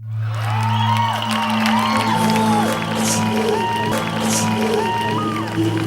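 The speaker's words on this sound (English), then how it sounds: "So give us a round of applause if you've been entertained and educated." An audience gives a round of applause with cheers, whoops and shouts at a live entertainment show, sustained and fairly loud for several seconds, with a steady low hum running beneath the crowd.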